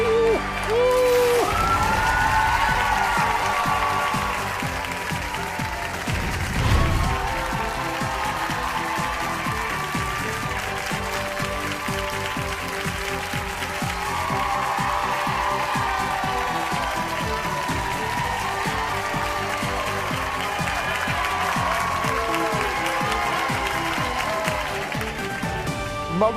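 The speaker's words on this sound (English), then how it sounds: "Look at who's cheering for you." A large village crowd cheers and applauds loudly and without pause, with whoops and shouting voices mixed into the steady clapping throughout.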